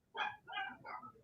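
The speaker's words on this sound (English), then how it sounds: "excuse the dogs barking" Dogs barking indoors, about three short bark bursts in quick succession at moderate distance, with no one speaking over them.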